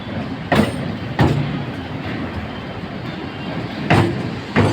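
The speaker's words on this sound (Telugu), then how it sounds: "ఇది ప్యాసింజర్ బండి" A passenger train rumbles past close by in a steady roar, with several sharp clanks as carriages go over the joints.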